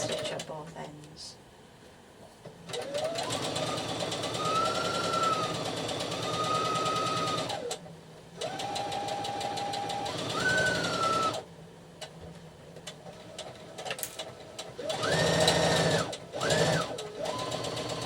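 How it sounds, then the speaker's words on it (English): A sewing machine stitches a shoulder seam on a garment joining yokes and front bodice, running in long steady bursts with short pauses and a quick back stitch, near and fairly loud. "shoulder seam. Remembering to back stitch at both ends."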